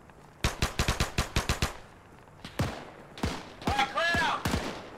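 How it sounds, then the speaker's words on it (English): Submachine gun fire in the video game Arma 3 during a World War II-style battle in Tunisia: a rapid burst of about eight loud shots, then a few scattered single shots and a longer ragged volley, close by. "I can finally put this SMG to good use."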